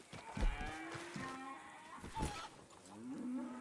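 A farm cow in a video game moos in long, low, drawn-out calls, loud and close, with a second shorter moo near the end and no speech.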